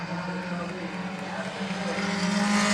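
Race cars roaring along the backstretch of Midvale Speedway, a continuous engine drone that swells louder toward the end as the pack draws nearer.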